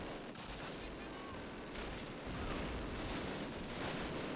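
Gunfire in the 2003 Call of Duty campaign's Normandy battle, a dense, continuous roar of shooting and explosions filling the scene, loud and unbroken without clear individual shots.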